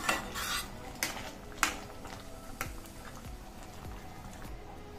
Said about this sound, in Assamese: ঘি তৰকা যিকোনো বস্তুতে কিন্তু খুব ভাল লাগে দি গোটেইখিনি ভালদৰে লৰাই দিছোঁ